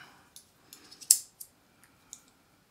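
A titanium EDC fidget slider with magnets makes a few sharp, close clicks, one louder snap near the middle and softer ticks around it, with quiet gaps between.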